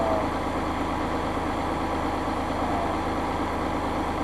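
A Massey Ferguson 5610 tractor's diesel engine runs at a steady idle after a fuel filter service, a constant low rumble with no change in pitch and no voices.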